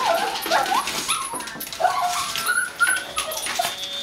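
A dog plays with a squeaker toy on Christmas Eve, the toy giving repeated short, high squeaks in quick bursts, close and fairly clear against a quiet room.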